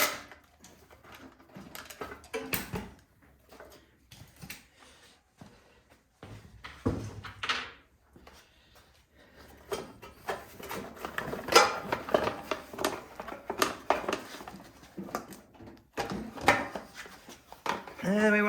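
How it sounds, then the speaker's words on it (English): Bolts being worked loose from a Craftsman snowblower that will not start, with scattered metallic ratchet clicks, clinks and knocks of tools and parts close by, mixed in with intermittent speech. "Remove these side bolts."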